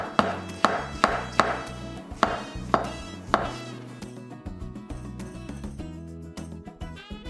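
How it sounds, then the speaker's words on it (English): Knife thinly slicing shiitake mushrooms on a cutting board, a steady run of sharp, close chopping strokes about every half second, fading into a softer, quieter patter near the end. "For the shiitake mushroom, thinly slice them."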